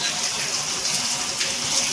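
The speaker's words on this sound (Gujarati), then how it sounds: "પોણા 7 ને વરસાદ ચાલુ થઈ ગયો ધોધમાર" Heavy rain pours down in a steady, dense roar of water with no pauses, loud and close throughout.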